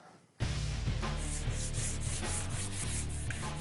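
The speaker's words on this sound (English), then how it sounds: "I think we'll block sand it a little bit, and then we'll Scotch-Brite it" A motorcycle fuel tank is block sanded by hand, producing close, steady rhythmic rubbing strokes of abrasive on metal that continue for several seconds without any talking.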